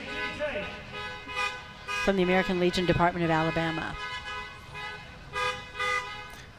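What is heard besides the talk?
car horns honking at a Veterans Day parade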